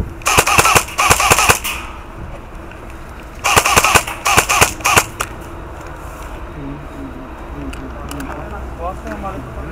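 Rapid bursts of airsoft gunfire during a night game, two clusters of sharp close snapping shots followed by quieter sporadic pops, with people talking.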